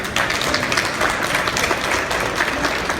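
Steady applause from an audience at a Light Up A Life 2016 gathering, a dense continuous wash of clapping hands with a few louder claps standing out, holding at an even level throughout.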